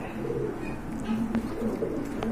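Pigeons kept for sale coo softly with low, throaty, repeated calls, close by and steady against a faint background hum.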